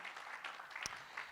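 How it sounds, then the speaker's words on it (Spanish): A church congregation claps together in a faint, steady wash of applause that sounds distant, with one sharper clap standing out partway through. "Dele un aplauso a Dios allí, para que no se me duerma."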